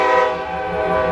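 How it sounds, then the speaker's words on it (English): A freight train horn sounds steadily and loudly throughout as the train passes, a sustained rich chord with no pauses and no voices. "I think that's the train I'm talking about."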